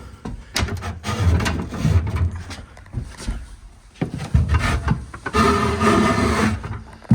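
A door into a farm grain shed being opened, with a series of creaks, scrapes and knocks from the door and latch, then a sliding, rumbling stretch near the end, close by and fairly quiet, no voices.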